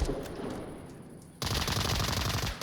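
Rapid automatic gunfire in the Onward VR virtual-reality shooter, pre-firing into sandbags: quieter scattered shots at first, then a loud, sustained burst of close-range fire.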